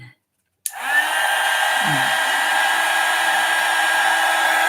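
A hair dryer is switched on abruptly after a brief silence to heat paint and then runs with a loud, steady rushing whoosh, close by and unbroken to the end.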